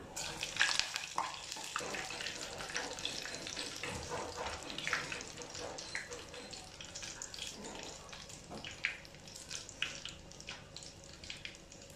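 Flour-coated cauliflower florets sizzle in hot oil with a steady, faint crackling fry, punctuated by clinks and splashy bursts as pieces drop in, while someone talks throughout.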